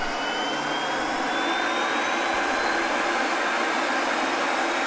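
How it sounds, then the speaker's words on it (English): Auxiliary power unit of an A-10C Thunderbolt II running with the cockpit open in Microsoft Flight Simulator, a loud, steady turbine whine and roar with a faint rising tone, continuous throughout. "APU on, we do need to do that, though."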